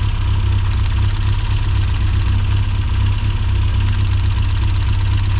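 A Mini John Cooper S Sport 5 engine idling roughly, a loud, close, steady low throb with an uneven pulsing beat and no voices.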